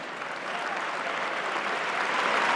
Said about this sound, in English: Amid applause,